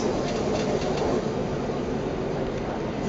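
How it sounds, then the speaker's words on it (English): Steady broadband rumble inside a passenger train running from Nice to Monaco, a continuous loud rolling roar with no distinct clacks or voices. "are on a train"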